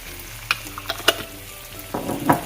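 Sour cream being stirred into curry chicken in a pan, with a soft sizzle beneath a few sharp spoon scrapes and clinks, then a denser burst of stirring noise near the end, close by.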